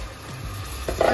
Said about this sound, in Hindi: अब हम इस स्टेप पर डाल देंगे ये कीमा